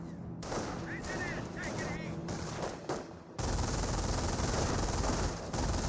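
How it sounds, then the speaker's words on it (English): Gunfire from a German MG42 machine gun in the WWII strategy game Company of Heroes, with dense bursts of shots and battle noise that continue throughout, louder and thicker in the second half, with voices mixed in. "MG42 does find some good suppression on these forces, forcing them back"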